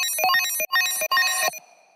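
A Serum synth preset built from two sine waves four octaves up plays a fast, bright, bell-like run of rippling high notes in three short bursts, loud and close, with no talking.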